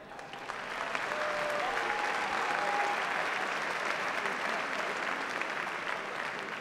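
Sustained applause from a large audience at a K1 kickboxing event, steady and fairly distant, with a faint whistle-like tone drifting through the first few seconds.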